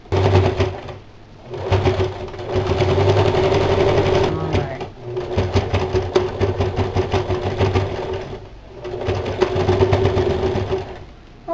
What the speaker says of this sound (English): then we're just going to sew the bib on.